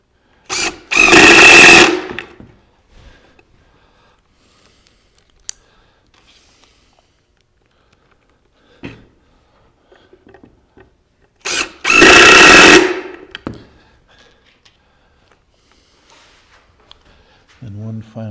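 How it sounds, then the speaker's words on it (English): A power drill drives screws while a shop light is installed, two loud whirring bursts about ten seconds apart, each roughly a second and a half long, with quiet handling clicks and taps in between. "complete our installation of the bottom with some screws"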